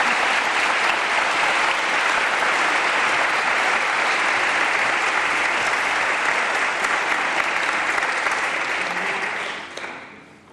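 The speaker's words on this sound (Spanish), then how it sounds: "un aplauso para este momento" A seminar audience at a church event in Switzerland breaks into sustained applause, a loud, thick wash of many hands clapping steadily for about ten seconds before fading out quickly at the end.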